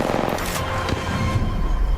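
Apex Legends gunfire during a victory celebration, dense rapid popping shots layered with booming bursts, loud and continuous throughout, no voices.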